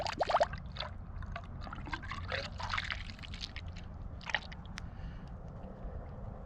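Antifreeze poured into a power washer, an uneven glugging, splashing trickle with small bursts and squishy liquid noises, faint and close, fading toward the end.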